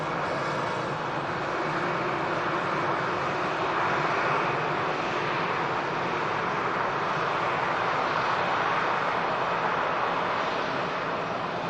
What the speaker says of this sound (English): A380 pulling on to stand 12